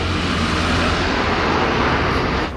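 A helicopter passes overhead at a dirt racing track, a loud, steady roaring engine wash that fills the whole stretch without breaks and fades slightly at the very end.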